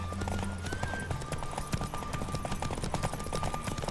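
A horse galloping in a race in the video game The Witcher 3, quick repeated hoofbeats at a steady driving rhythm, close and continuous, with game music or effects underneath.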